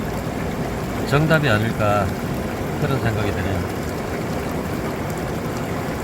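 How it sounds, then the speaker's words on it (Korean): Rushing stream water pouring between rocks five days after heavy rain, a steady broadband wash that runs through the whole stretch, with someone talking over it for a few seconds. "물소리가 세차게 들리죠?"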